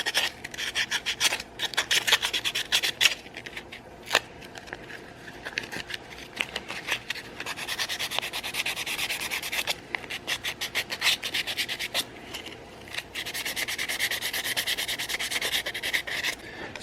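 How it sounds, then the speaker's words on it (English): Light hand sanding of a colored paper fingerboard gives close, dry rubbing strokes in quick repeated bursts, sometimes choppy and sometimes longer and steadier, with no voices. "I'm just doing some light hand sanding"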